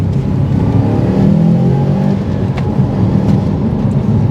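A 2015 Subaru WRX STi engine pulling hard under acceleration, a loud, close, rumbling boosted drone heard from inside the car, with no talk.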